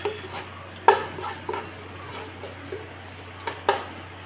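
A spoon stirs and sautés masala with chili powder and a little garam masala in a pan for a prawn fry, with soft scraping strokes and occasional sharper taps over a faint steady hum.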